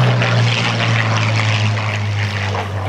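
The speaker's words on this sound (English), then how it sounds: "Here comes the P-40, just crossing past the United States." A P-40 warbird propeller fighter flies past at the 2010 Warbirds over the Beach airshow, its loud, steady engine drone filling the whole stretch with no voices over it.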